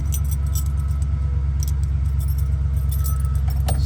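Keys jingle lightly in a few brief clinks, close by, over the steady loud hum of an Arkansas slant six engine nearby.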